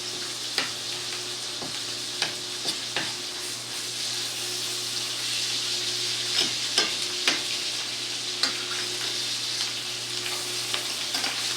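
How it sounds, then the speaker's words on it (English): A steak sears in a pan as it is basted with butter and thyme, a steady sizzle that runs throughout with a low hum beneath it and repeated sharp clicks and scrapes of a spoon against the pan. "So now I bring the steak on top of the pan, and with my butter, I'm going to baste it like that."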